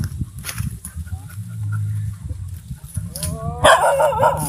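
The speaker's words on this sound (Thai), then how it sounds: "เสียงหมา เสียงหมาเขากล้อง" A dog barks and yips at a distance amid outdoor rustling and low murmur, the barks getting louder and more excited toward the end.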